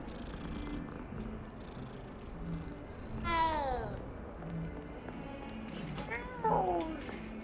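A cat in the Hogwarts Legacy video game gives two clear rising-and-falling meows several seconds apart, over a soft purring bed and quiet game ambience.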